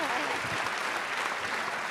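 Audience applause in a concert hall at a talk event, a broad steady wash of clapping lasting the whole moment at even loudness, with some voices mixed in.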